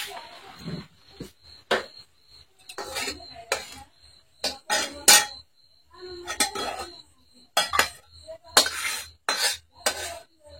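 Egg bhurji is being served onto a plate at home, with spoons and dishes clinking and scraping in repeated sharp, close taps spread over several seconds. Small handling noises fill the gaps between the taps.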